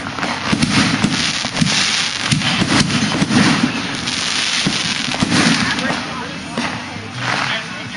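July 4th fireworks display, a continuous dense crackle of bursts and pops at a distance, with people talking and exclaiming throughout.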